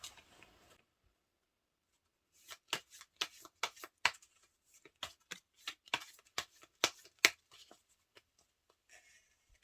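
Tarot cards shuffled and drawn for a love-compatibility reading: a brief soft rustle, a pause, then a quick run of about a dozen crisp, close card snaps and flicks, ending in faint rustling.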